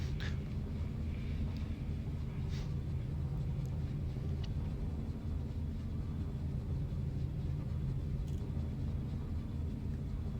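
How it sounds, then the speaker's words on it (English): Fighter jet engine in the space game Elite Dangerous: a steady, loud low rumbling drone that holds constant throughout, with faint higher hiss and a few brief soft accents, no voices. "that fighter jet sounds like it from the freaking Jetsons car"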